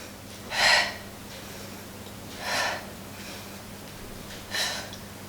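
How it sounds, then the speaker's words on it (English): Three forceful breaths are pushed out during a pole dance conditioning exercise, evenly spaced and close, with quiet between them and no speech. "Exhale when you go up."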